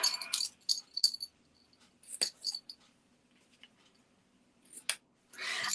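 Scissors trim paper in a stamping craft session: a few crisp snips close up, then a quiet pause, then another cut and a final burst of rustling.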